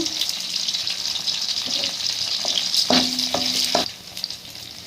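Dried red chillies with chana dal and urad dal fry in hot oil in a pan for a curry leaf and shallot chutney, giving a close, steady sizzle with a few clinks of stirring.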